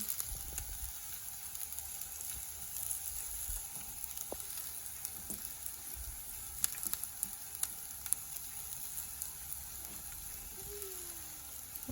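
Quiet, steady sizzle of garlic frying in a pan before radish is added, with a few light clicks and scrapes scattered through.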